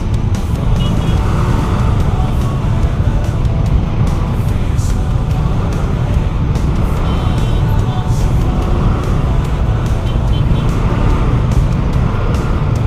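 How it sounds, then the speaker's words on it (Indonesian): Morning traffic jam on a Jakarta road, heard from a motorcycle: a steady, dense rumble of idling and creeping car and motorbike engines fills the whole stretch at constant loudness. "Setiap pagi gua lewat sini udah pasti macet cuy."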